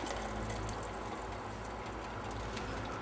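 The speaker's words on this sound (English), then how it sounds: "and then you pour the soup back." Hot soup for an Ipoh-style noodle dish is poured back into a bowl of noodles, giving a continuous close splashing, gurgling liquid rush that stays loud and steady throughout.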